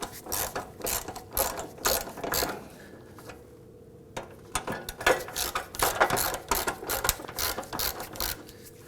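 A ratchet loosens a fuel tank nut on a 2005-2009 Subaru Legacy 2.5L H4, giving rapid bursts of close, sharp pawl clicking in repeated strokes, with a brief pause near the middle and no speech.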